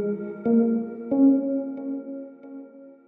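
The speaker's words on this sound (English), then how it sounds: "But I'll play it with the dreamy bells and then the pluck together." Alchemy's Dreamy Dulce Bells layered with a synth pluck in Logic Pro X for a zouk and Afrobeats production, three soft bell-like note attacks with long shimmering sustain, fairly quiet and alone.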